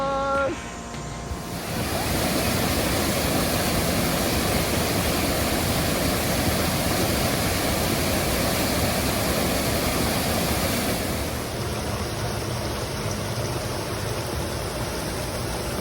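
El Chorro de Damajagua waterfall in Esperanza, Dominican Republic, roars as a loud, steady broadband rush of falling water close by, continuous across the whole stretch with no voices heard.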